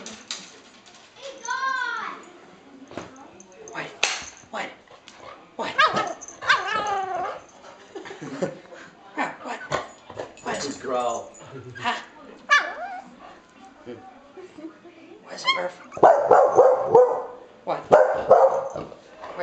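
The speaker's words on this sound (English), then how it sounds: "Why are you barking, Murph?" A small miniature Yorkshire terrier barks and yips in short bursts, mixed with whimpers, while a voice talks nearby.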